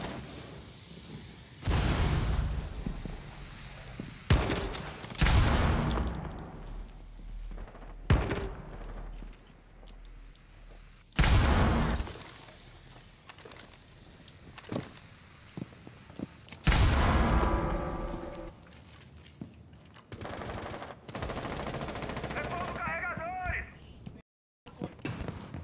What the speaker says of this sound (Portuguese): Nossa, dei tiro pra caralho nessa Valky.